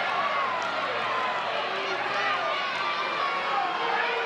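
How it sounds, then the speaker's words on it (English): At a college softball game between Oklahoma and Miami (OH) in a new stadium, a loud, rowdy crowd reacts to a called pitch. The noise is a sustained roar of voices, with an announcer talking over it. "Crowd disagreed with that one."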